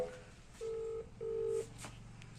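Telephone keypad dialing: two distinct touch-tone beeps about half a second each, close and clear over a low background hum, with no talk.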